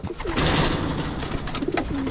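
Pigeons coo softly and repeatedly close by, their low throaty calls layered over a rustling background.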